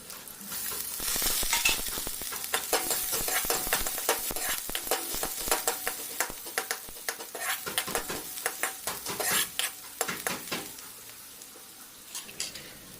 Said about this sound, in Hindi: 6-7 कली लहसुन और लगभग एक प्याज के अच्छे छोटे टुकड़े करके उसको भी हम साथ में फ्राई कर